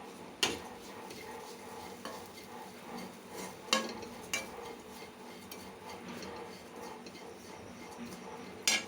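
Dried shrimp sambal being stirred in a pan, a steady scraping texture with a few sharp utensil knocks against the metal, fairly quiet and close, no voices.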